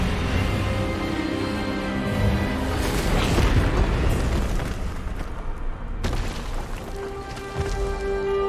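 A rumbling magical spell blast from Hogwarts Legacy swells loudly over a sustained musical score, with a sharp crack near the end followed by a ringing tone.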